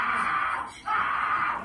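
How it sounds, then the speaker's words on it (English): Boy screaming at a school in footage filmed by students, a sustained high strained cry that breaks briefly in the middle and resumes, loud and somewhat distorted. "her son can be heard screaming in this separate video taken by students"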